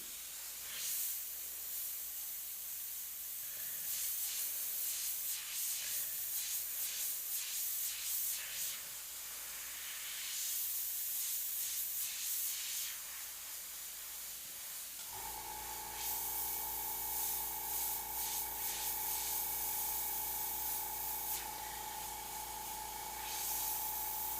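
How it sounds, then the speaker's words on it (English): An airbrush sprays custom paint in a long, steady hiss broken by brief pauses, and a low hum sets in partway through. "now this is starting to spray funky"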